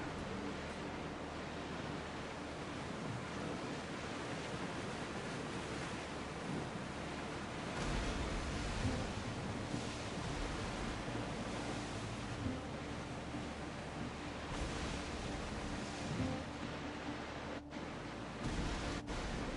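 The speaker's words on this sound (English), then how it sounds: "Feel that wind!" Wind and ocean waves while sailing a ship at sea in Assassin's Creed Odyssey, a steady broad rushing hiss of wind and surf that swells slightly partway through, with faint soft knocks, no voices.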